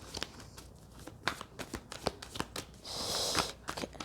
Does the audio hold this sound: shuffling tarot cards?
yes